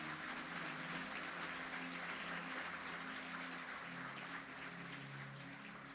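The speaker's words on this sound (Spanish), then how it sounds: "Denle un fuerte aplauso a Jesús." A congregation at a church sermon gives steady, even applause, soft and distant, with faint music lingering low beneath the clapping throughout.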